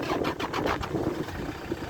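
A small Toyota car's engine turns over and runs, a low rumbling churn with pulsing cranking bursts, close and moderately loud throughout the short stretch.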